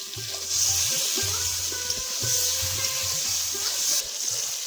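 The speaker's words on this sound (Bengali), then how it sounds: "তেলে এখন বেগুনগুলো ভেজে নেব" Eggplant pieces fry in hot oil with a little salt and turmeric, giving a steady close sizzle. Soft clicks of stirring come through at irregular moments.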